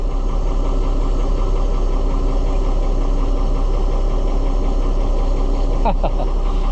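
Car engine idling steadily with a low, even rumble throughout, close and fairly loud, with a brief rattle near the end.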